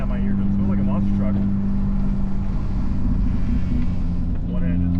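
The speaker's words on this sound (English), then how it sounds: "Ripping at my eardrums. It looks like a monster truck." A loud, heavy truck likened to a monster truck rumbles past close by on the twisting Tail of the Dragon mountain road, its deep engine drone filling the scene while people talk over it.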